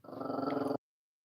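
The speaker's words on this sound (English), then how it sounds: "She's gonna continue barking." A dog growls and barks in a rough, rhythmic run of pulses lasting under a second, close and fairly loud, then cuts to silence.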